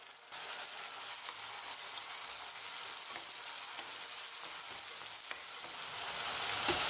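Chopped tomatoes and onions sautéing in oil for a kulambu, a soft continuous sizzle with faint stirring scrapes, steady throughout and swelling slightly louder at the end.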